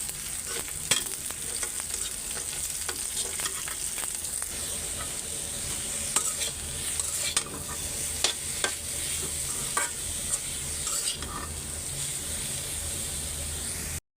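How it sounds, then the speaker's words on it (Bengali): Garlic, onion, ginger and green chili frying in hot oil for tempering greens, a steady close sizzle with occasional stirring scrapes and clinks throughout. "আর বাগারের জন্য এখানে রসুন পেঁয়াজ আদা কাঁচামরিচ সব দিয়ে এখন লাল লাল করে ভাইজা"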